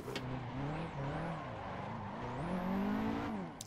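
A modded Nissan 180SX S13 drifts in Assetto Corsa, its engine revving up and down in sweeping pitch changes with a high tire squeal bending above, loud and continuous.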